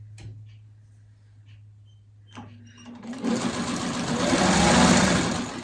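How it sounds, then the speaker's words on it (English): A home sewing machine runs steadily from about three seconds on, stitching a small fabric triangle across a section of a freeform appliqué letter B, its whirring motor loud and continuous after a quiet start with a few handling clicks. "I'm gonna sew from here down to here."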